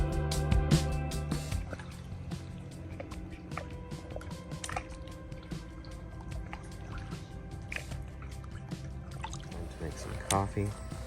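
Liquid being poured while coffee is made at a lakeside campsite, with irregular drips, splashes and clinks over a steady trickle, and someone talking at moments.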